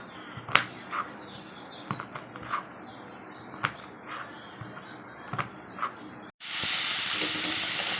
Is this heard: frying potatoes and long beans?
yes